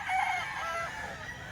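An 11-month-old golden boy sweater rooster crows in a continuous, moderately loud call over a noisy outdoor background, with no speech.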